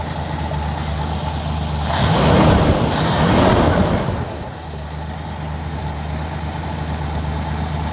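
Steady low rumble of an old car engine idling close by during carburetor adjustment, with a brief louder hissing whoosh in the middle before settling back to an even idle.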